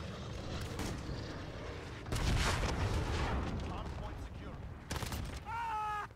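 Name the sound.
rocket explosions in video game Call of Duty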